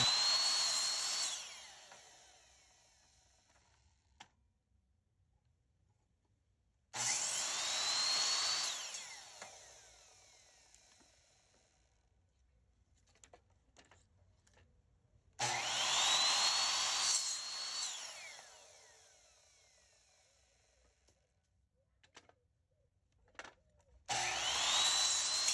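A power saw cuts reclaimed wood, once full of nails, for a cutting board, running in three loud bursts of several seconds each with quieter gaps and faint handling knocks between them, plus a fourth burst starting at the end.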